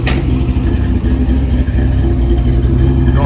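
A 1956 Chevrolet Bel Air's deep, rumbling engine idling and revving with a throaty Flowmaster exhaust note, loud and close, steady throughout with no talking.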